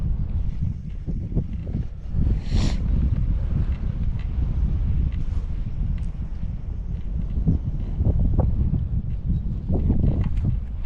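On a fishing outing, wind gusts buffet the microphone outdoors. The result is a steady, loud, low rumble with a few faint knocks and rustles.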